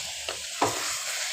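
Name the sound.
stirring chicken masala with drumsticks (suhanjna) in pan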